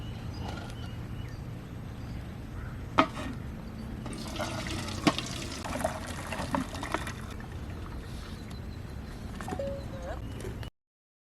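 Water drains from a pot of boiled drumsticks (moringa pods) in a kitchen, a continuous soft pouring and trickling with a few sharp clinks of utensils, no talking.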